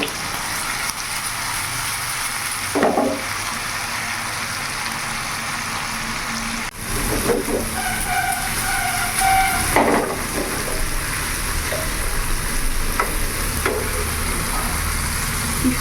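Masala-coated khaira fish fries in an uncovered pan with a constant, close, hissing sizzle and occasional soft clinks of a spatula turning the pieces.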